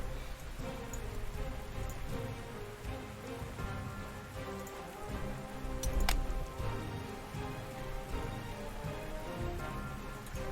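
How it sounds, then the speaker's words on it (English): Rain in the World War II strategy game Panzer Corps, a continuous patter of drops on surfaces with scattered ticks and one sharper crackle midway, steady and close throughout. "Wow, this rain really puts me in a tight spot."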